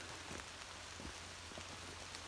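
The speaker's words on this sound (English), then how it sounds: "I'm filming in the rain." Steady rain patters on a surface, a dense continuous wash of drops with occasional louder taps, no voices.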